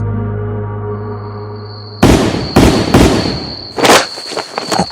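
Rapid gunshots fired from a rooftop in a Filipino horror audio drama, several sharp loud cracks in quick succession following a fading tonal hum, with a ringing tone lingering behind them.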